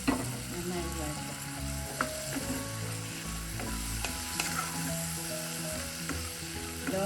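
Ladies finger and tomato sautéing on a low flame for charu curry, a close steady sizzle with rhythmic stirring scrapes and clinks of a utensil on the pan, some faint background hum.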